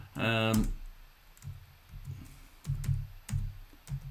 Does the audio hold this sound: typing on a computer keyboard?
yes